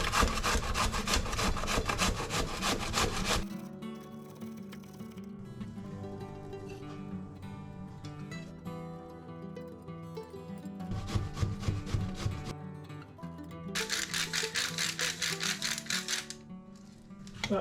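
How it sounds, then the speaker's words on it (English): Courgette being grated by hand, loud close rhythmic rasping strokes in long bursts, pausing briefly in the middle and resuming, with no talking. "Start grating the courgette."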